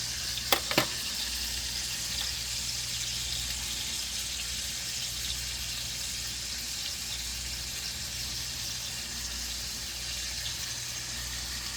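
Fillets fry in a pan over a lower burner heat, giving a steady, close hiss of sizzling fat that runs throughout, with a couple of brief clicks near the start and no talking.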